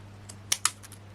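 Scissors cut through a piece of craft card in a quiet room, with two crisp snips close together and a couple of softer clicks over a low steady hum.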